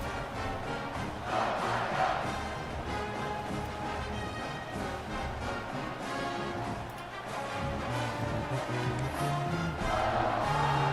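A packed stadium crowd roars continuously in a college football video game, a dense, sustained wall of cheering with swelling peaks and no clear pauses.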